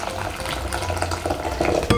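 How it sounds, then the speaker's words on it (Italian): Boiling water poured from a kettle into a bowl gives a short, close splashing and trickling of liquid, steady for about two seconds with no talk. "vi preparate un bel po' di acqua bollente e la versate in una"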